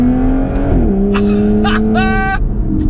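A stock-exhaust 2018 Aston Martin Vanquish S V12, loud and close, holding a steady drone that shifts pitch as the revs change, with sharp high bursts over the top; a voice may be faintly present.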